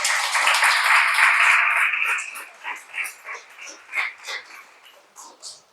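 A church congregation bursts into loud, dense applause that sustains for about two seconds, then breaks into scattered, rhythmic clapping bursts that gradually thin out.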